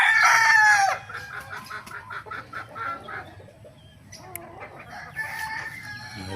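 In a backyard in Paltao, Pulilan, Bulacan, a rooster crows loudly and close at the start, followed by rhythmic clucking from chickens and a second crow building near the end.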